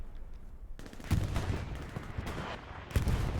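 Tank battle in an esports video game: sharp explosions and bursts of gunfire crack at irregular intervals, several loud impacts standing out over a dense rumble of combat.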